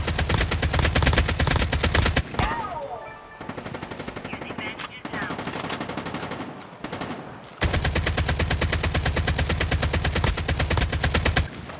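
Gunfire in the mobile first-person battle royale game Call of Duty Mobile, loud rapid automatic bursts of an M2 that stop for several seconds and then resume with a long sustained volley, with faint voices in between.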